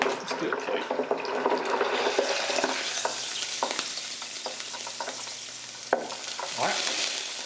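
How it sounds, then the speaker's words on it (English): A steady, crackling sizzle of random objects frying in a deep fryer's hot oil, close and continuous, with occasional sharp pops and faint clinks. "It looks like the water inside of them is boiling."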